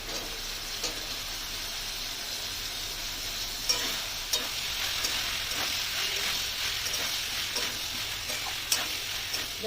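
Chopped ridge gourd and its stalks hit hot oil in a pan, giving a steady close sizzle and frying hiss with occasional stirring clinks and spatters throughout, no voices.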